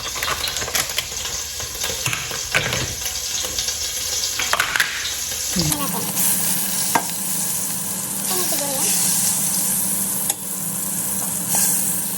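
Butter melting with cooking oil in a hot pan, producing a steady bright sizzle that swells suddenly louder midway and keeps crackling without pause, no voices over it.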